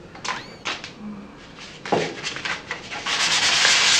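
Sandpaper rubbed by hand over a 3D-printed bronze-filled colorFabb filament part, giving scratchy, uneven strokes that come close and grow into a continuous loud rasp toward the end.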